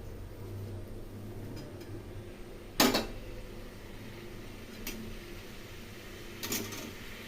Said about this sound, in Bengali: এখন এর মধ্যে সিদ্ধ করে রাখা সয়াবিনগুলো দিয়ে দিলাম।